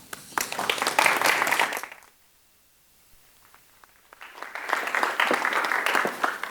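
An audience applauds readers at a book showcase, a burst of clapping that fades into a brief lull, then swells again into sustained applause.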